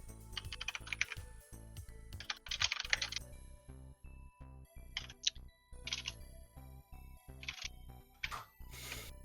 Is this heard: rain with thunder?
no